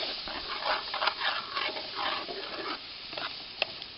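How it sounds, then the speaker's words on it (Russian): Leftover shashlik sizzles in a frying pan with onion and tomato, about to be topped with egg: a steady close hiss of frying with occasional light stirring clicks, no voices. "Кинем шашлык и зальем яйцом."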